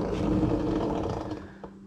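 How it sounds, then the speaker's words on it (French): Intake noise of a moped with an Airsal XT77 boosted cylinder and a large-chamber exhaust: a dense, rough mechanical buzz at steady idle, close and moderately loud, with a slight drop near the end. "le bruit d'admission est plus gros"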